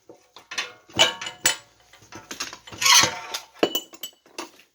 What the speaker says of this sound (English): So I'll remove the ball joint press here.